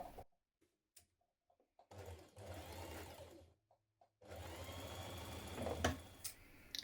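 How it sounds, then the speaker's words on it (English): A domestic sewing machine stitches a 1 cm seam around three edges of blouse tabs, running in bursts of rapid mechanical whirring separated by short pauses, loud and close with small clicks between runs. "We're going to stitch around the outer edge of three sides with a 1 centimetre seam"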